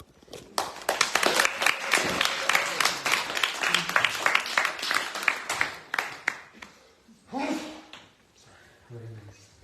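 Audience clapping at a Srimad Bhagavat Saptaha gathering in Hawaii: a dense, fairly close burst of many hands that thins out, followed by a few scattered voices.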